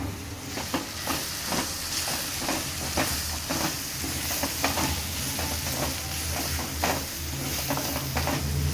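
Coriander powder is stirred into a sizzling egg curry in a pan, giving a steady close frying hiss broken by repeated scraping strokes of the spoon, with no talk.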